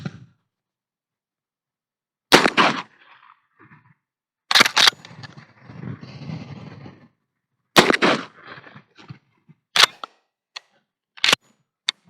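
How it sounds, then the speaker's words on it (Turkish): A pump-action shotgun firing nails at a target 25 metres away outdoors, several loud sharp blasts spaced seconds apart, each with a short echo and faint handling noises between shots. "Pompalı tüfekle çivi atıyoruz arkadaşlar."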